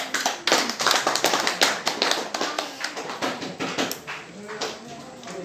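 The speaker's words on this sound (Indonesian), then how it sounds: "Tepuk tangan untuk kelompok." Classroom applause for a student group, a brisk burst of many hands clapping close by with uneven rhythm, tapering off near the end while speech murmurs underneath.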